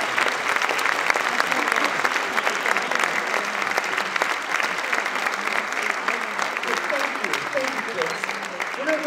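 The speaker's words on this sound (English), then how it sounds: "Give them a nice round of applause" Guests at the opening ceremony of the 20th Sedona International Film Festival applaud the board of directors, a loud, continuous burst of clapping lasting several seconds, with voices mixed in.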